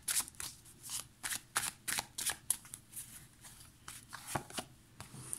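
Tarot cards being shuffled by hand, a rapid series of close, crisp riffling bursts in an uneven rhythm with no talking.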